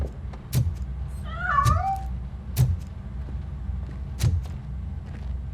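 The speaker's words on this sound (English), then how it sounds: "That cat must be hiding inside." A cat in the RoboCop: Rogue City video game gives a clear meow, set among scattered thumps and low rumbling room noise, with soft knocks recurring through the scene.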